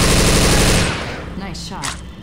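Loud, rapid burst of automatic gunfire in the zombie shooter Left 4 Dead 2, a dense stuttering volley for about a second that cuts off into a few sharp trailing shots and clatter.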